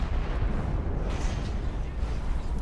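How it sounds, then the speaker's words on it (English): A massive explosion in the video game Prototype 2 makes a loud, dense roar that rumbles on without a break for nearly three seconds. "Massive explosion."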